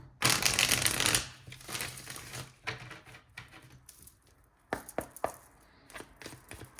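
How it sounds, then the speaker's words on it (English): A quick riffle of tarot cards being shuffled, followed by scattered soft taps and slaps of cards being handled, close and fairly quiet. "Let me just give these a little shuffle."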